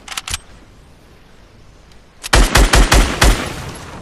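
Video game gunshots from a sniper-style 360 no-scope attempt: two sharp cracks early, a lull of faint background, then a loud rapid burst of five or six shots in quick succession near the end.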